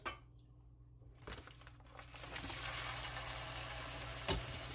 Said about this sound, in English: I know y'all hear it sizzling